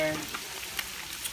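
Garlic and eggs frying in hot oil, a brief soft sizzle with a few faint crackles and pops, fairly quiet and steady.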